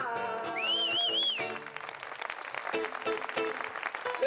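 Applause from the audience at a poetry song festival in Villanueva de Tapia rises after a whistled or sung phrase, scattered claps thickening into steady clapping that fills the rest of the moment.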